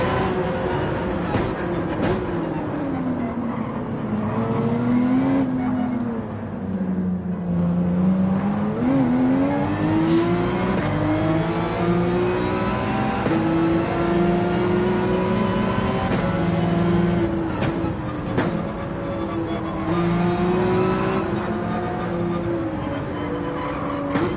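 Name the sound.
race car engine with nitrous boost in racing video game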